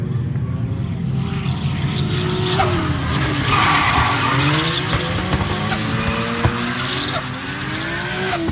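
A drift car, Kalle's number 91 on 285 tyres, spins its wheels at a Midsummer drift event at Pesämäki, its engine roaring loud and continuous over screeching tyre skids.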